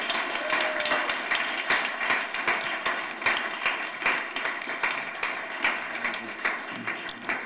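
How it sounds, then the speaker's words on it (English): An audience claps for a startup pitch at a demo day, loud and close, the clapping coming in rapid uneven bursts that pulse throughout without stopping. "And this is your final applause, of course."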